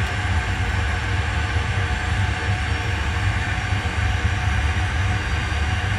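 Ryanair airliner engines on landing approach, a steady loud roar and hum from inside the aircraft, continuous and unbroken with no talk.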